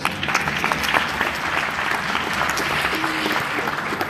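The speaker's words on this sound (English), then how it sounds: "Let's give her a store round of applause" An audience at an evening information meeting about a dollar house program gives a sustained round of applause, dense and fairly loud, with a few sharper claps standing out near the start.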